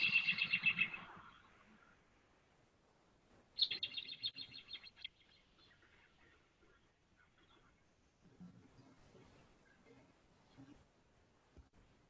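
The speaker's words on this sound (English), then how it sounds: "This is just one other example of the sounds that a robin makes." A played recording of a robin's whinnying call gives a faint high, rapidly trilled burst, a pause, then another descending whinny, over a low background murmur with quieter sounds toward the end.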